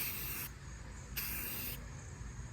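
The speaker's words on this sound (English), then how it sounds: "you're going to come back about a foot and spray just like this." Aerosol spray paint can coating a fishing rod, two distinct hissing bursts close by, each about half a second to a second long, separated by brief pauses.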